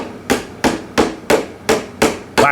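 A toddler's wooden toy hammer strikes a toy nail on a kids' wooden tool bench: seven sharp, close knocks in a steady rhythm, each with a short woody ring.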